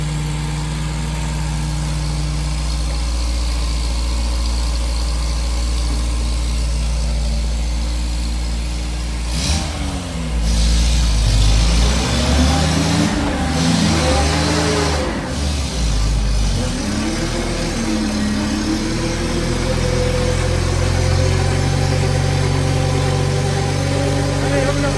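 A 1980 MG engine on a dynamometer idles with a low rumble, then revs hard in several rising, wavering pulls before settling back to a steady loud drone.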